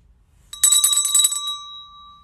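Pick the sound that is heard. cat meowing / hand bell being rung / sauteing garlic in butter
hand bell being rung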